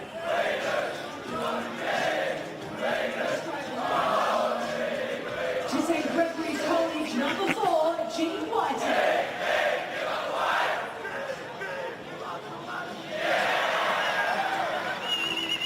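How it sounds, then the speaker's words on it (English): Students cheer their team on at a schoolboy rugby match, Bass High School against St Gregory's College: a dense crowd of young voices roaring, chanting and shouting in waves, loud and sustained, with surges and brief dips. "Love listening through the effects microphone of the students cheering their team on"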